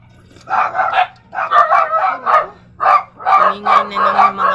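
Several dogs bark in rapid repeated bursts, loud and close, with short pauses between volleys.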